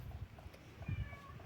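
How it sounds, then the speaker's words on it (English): A pet cat meows faintly from a distance, a brief soft call heard over a quiet, low background hum. "And that's my cat"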